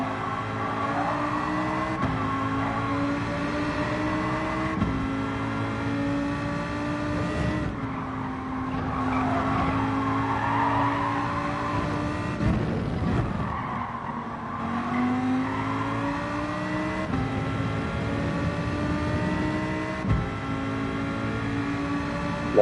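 GR4 race car cornering at Deep Forest in a racing video game, engine note rising and falling through gear shifts while tires squeal and skid under it for a sustained stretch, with no talk heard.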